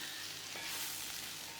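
Sliced okra sautés in a pan in a masala curry, giving a faint, steady sizzle and crackle with a slight stirring scrape, no voices present.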